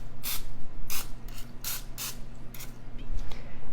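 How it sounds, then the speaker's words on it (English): Cooking spray hissing onto foil lining a baking dish for lemon bars, several short bursts in a steady rhythm, close and fairly loud, with no talking. "Now we're going to lightly spray the foil."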